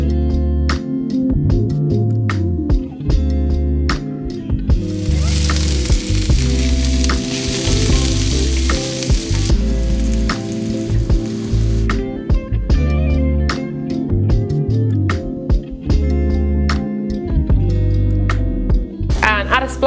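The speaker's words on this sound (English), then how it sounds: "you want to fry your spices so that they get really delicious smelling" A teaspoon each of cumin and coriander seeds fry in a pan, a steady close sizzle with occasional crackles running under background music.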